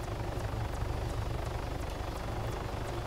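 Helicopter in the video game Arma 3 keeps up a steady, muffled engine drone with faint, regular rotor thumps, fairly quiet and unbroken throughout.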